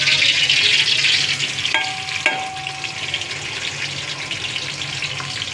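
Onions sizzling and frying in hot oil for chicken biryani, a steady loud crackling hiss that eases slightly as it settles, with a couple of brief metallic clinks partway through.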